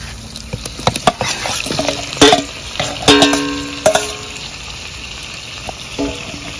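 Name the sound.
chicken and potatoes frying in spice masala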